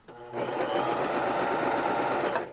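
A Baby Lock Zest sewing machine stitches a zigzag through fabric in one continuous, loud, rapid mechanical whir lasting about two seconds, starting abruptly and ending with a brief slowdown, with no voices over it.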